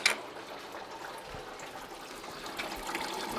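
Coolant drains out of a car radiator as a steady trickle of liquid, close and moderately faint, with a brief clatter at the start and the flow growing slightly stronger toward the end.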